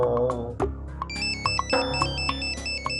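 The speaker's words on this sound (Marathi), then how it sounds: "काहीचा फोन आला." An incoming call sets off an electronic phone ringtone, a string of short, bright melodic beeps repeating at a steady pace over background music.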